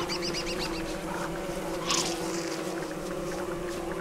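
Bees drone around their hives in the video game Don't Starve, a steady, close buzzing hum that holds without a break and swells briefly near the middle, with no voices.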